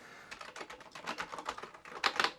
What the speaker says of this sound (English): Keyboard seems to be working.